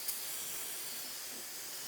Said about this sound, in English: hit her with a liberal amount of prep solvent here